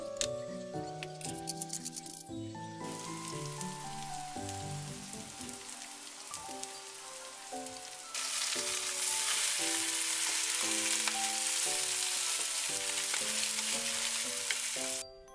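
Egg and batter pancake with cabbage frying in a pan, a steady broadband sizzle that grows louder and fuller halfway through, set under background music with no talk.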